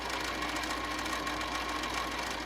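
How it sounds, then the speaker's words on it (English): A sewing machine top stitches along a pocket edge, running as a steady, fast, even whir for the full stretch, moderately quiet with no voices. "because my needle is shifted over, I'm getting this beautiful, beautiful top stitching"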